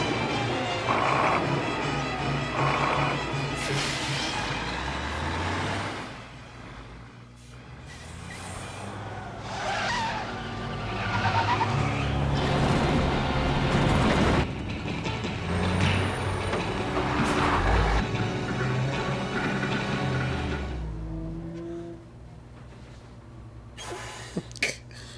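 A heavy truck from the 1971 film Duel rumbles and roars on the road while hissing air brakes and mechanical clatter rise and fall, with loud engine drones swelling and fading over a continuous dense soundtrack.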